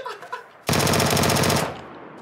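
A shotgun in the PUBG video game fires in a loud, dense burst of rapid reports lasting about a second, abruptly starting after faint background sound and cutting off sharply, no talk.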